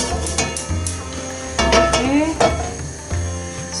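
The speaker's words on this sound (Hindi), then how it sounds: "अभी हम एग प्लांट्स को पकाएंगे।" Eggplant cooks in hot olive oil with garlic and herbs, sizzling steadily while a utensil stirs and clinks against the pan in several sharp bursts.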